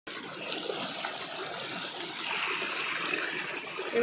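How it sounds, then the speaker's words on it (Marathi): Clear water from a natural mountain source runs along a roadside channel in a rural Konkan village during the monsoon, a steady broadband rush and trickle that holds at an even level throughout, with no voices. "इथून पाणी वाहत हे किती स्वच्छ पाणी आहे"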